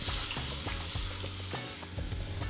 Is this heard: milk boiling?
yes